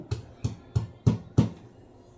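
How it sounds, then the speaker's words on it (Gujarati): Five evenly spaced dull thuds, about three per second, as garlic is pounded in a mortar; close and moderately loud with no talking. "આ રીતે ખાંડવાથી લસણનો ટેસ્ટ લાગે છે"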